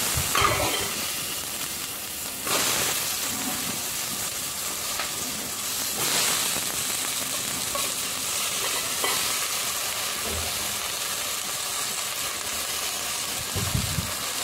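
Chicken pieces fry in hot oil in a pan for a curry, a steady sizzle running throughout with occasional scraping stirs and louder bursts near the end, no talking.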